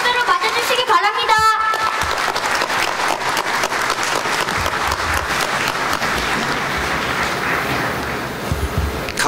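Vigorous applause from an audience at an education superintendent's inauguration ceremony. It starts with a brief voice, then continues as steady, dense clapping for several seconds before fading slightly.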